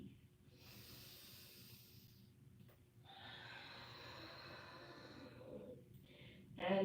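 Slow, deep breaths drawn during a full-body yoga workout, long airy inhales and exhales heard close and soft, with a short pause between them.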